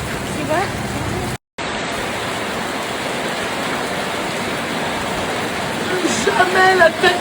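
Steady rain falling on Koh Phi Phi, Thailand, during a November night: a dense, continuous hiss that holds loudly throughout, with a brief cut near the start and faint tonal chirps toward the end.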